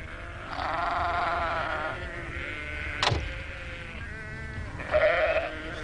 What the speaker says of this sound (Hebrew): עדר הכבשים של אלף חצה את הכביש